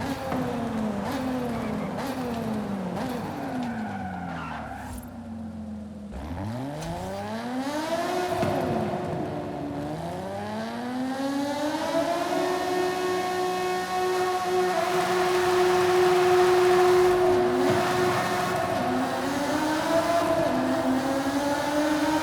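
A Lotus Emira's Toyota V6 engine revs up and shifts through manual gears in the video game Forza Horizon 5, its roar echoing and building in loudness inside a tunnel, with no talking.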